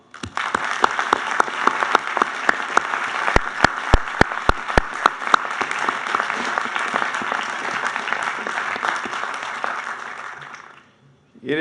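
Audience applause fills a Georgetown University commencement ceremony, a dense, steady wash of many hands clapping at close range with a few sharp individual claps standing out, holding for about ten seconds before cutting off abruptly.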